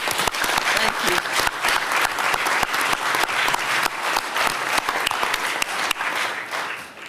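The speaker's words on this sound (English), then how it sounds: "So let's give all of them a round of applause." Audience at a county commissioners meeting applauding summer interns, a dense burst of steady clapping from a roomful of people that fades out toward the end.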